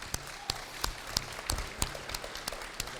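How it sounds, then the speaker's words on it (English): A small audience at a candidate forum applauds the council candidates with sparse, uneven clapping, individual hand claps standing out as distinct sharp hits over a low room background. "Could we give them a round of applause, please?"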